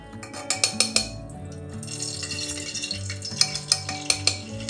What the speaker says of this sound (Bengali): এই যে সাদা তেল দিয়ে দিয়েছি, এখন এই যে ঘি দিচ্ছি